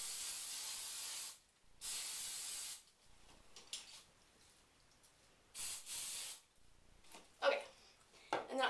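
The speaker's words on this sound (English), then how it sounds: "The glory of aerosol." Aerosol hairspray is sprayed onto freshly curled hair in several short, close hissing bursts with quiet gaps between, ending with a couple of brief sprays.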